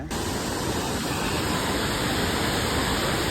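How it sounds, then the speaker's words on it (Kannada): Abbey Falls in Coorg, Karnataka pours down in a dense, loud, unbroken roar of falling water heard close up, with no voices over it. "ಯಾವ ಥರ ನೀರು ಬೀಳ್ತಿದೆ ನೋಡಿ"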